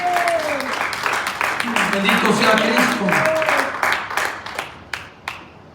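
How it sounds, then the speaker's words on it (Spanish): A congregation applauds during a Spanish-language church service, loud, full clapping that fades out near the end, with voices speaking and calling out over it. "Denle un aplauso al Señor."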